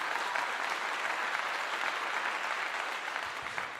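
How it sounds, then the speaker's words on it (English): An audience applauds steadily, a dense, even wash of many hands clapping at once, sustained at moderate loudness throughout without a break. "Give him a clap for that."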